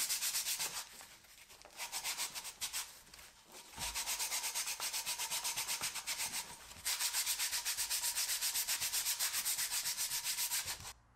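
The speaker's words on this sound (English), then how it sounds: "To make the tenons smooth and of the right size, I used a chisel to remove excess material and finished it off with 120 grit" Wooden tenons sanded by hand with 120 grit sandpaper, a steady rhythmic scratchy rubbing in repeated back-and-forth strokes, close and fairly loud, pausing briefly twice, with no talking.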